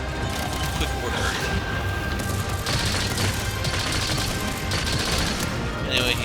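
Rapid volley of gunfire in Monster Hunter Rise, a dense, continuous barrage of shots layered with game effects and mechanical clatter, loud and sustained throughout with voices talking over it.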